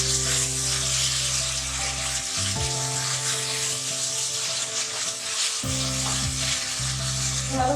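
Tomatoes hit a hot pan of green chillies, and a loud, steady sizzle and frying hiss fills the scene, dipping briefly in the middle before surging again, with no voices.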